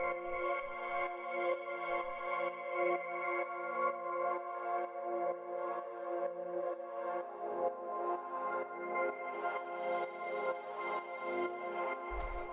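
Two-layer synth main pad for dreamy techno, a sustained warm harmonic chord that shifts to a new chord midway, soft and smooth with no voices over it.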